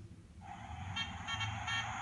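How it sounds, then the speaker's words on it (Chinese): A car horn sound effect plays from a children's pull-tab sound book, a short electronic honking that pulses a few times, small and tinny, over faint room hum with no talking. "可以听到汽车的声音，"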